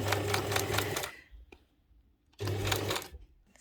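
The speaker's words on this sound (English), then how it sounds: "I'm just going to start sewing from here again" A sewing machine stitching a towel jacket with a zipper runs in two quick bursts of rapid mechanical chatter, separated by a pause with a single small click, close and fairly quiet.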